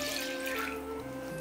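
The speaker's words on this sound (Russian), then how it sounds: "В мисочку отправляем теплую воду." Warm water poured into a mixing bowl for dumpling dough, a steady soft trickle and splash heard close and quiet for a brief moment with no talk.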